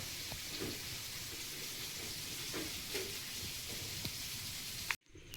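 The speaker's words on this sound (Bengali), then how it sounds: "আমি এখন পনিরের আলুটা ভালো করে ভেজে দিচ্ছি।" A steady, even sizzle of paneer and potatoes frying in hot oil fills the clip, with a few faint scrapes, before cutting off abruptly near the end.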